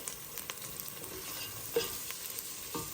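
Onions frying until brown for mutton curry, a quiet steady sizzle with a few soft stirring scrapes, no talking.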